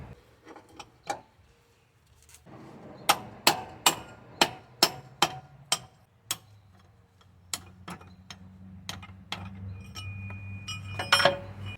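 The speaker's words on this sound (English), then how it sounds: "now I'm gonna try to pry it out right now" A stuck Honda CV axle is pried out with a series of sharp metallic knocks and clinks, some quick and evenly spaced, others scattered, all close and loud over a quiet garage background.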